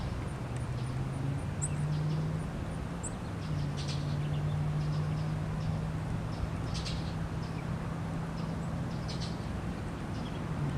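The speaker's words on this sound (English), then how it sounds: "focus your attention just on the birds. Notice what they sound like." Scattered bird chirps and calls over a steady outdoor hum, with a low drone running underneath throughout.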